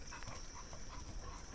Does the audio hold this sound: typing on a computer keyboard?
no